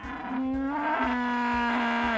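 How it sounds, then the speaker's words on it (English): A large cow moos in the farming video game Peachleaf Valley, giving one long, loud, low call that holds steady and then falls away at the end. Faint rhythmic background music plays underneath. "rampaging cow heading straight towards me at lightning speed"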